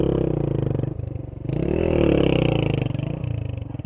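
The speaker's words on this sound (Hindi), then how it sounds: "ये देखें ये लोग मोटरसाइकिल आगे लेकर जाने वाले।" A motorcycle's engine idles and revs with a rhythmic chugging beat as it is moved forward along a road, with a scraping, clattering break in the middle and no talking.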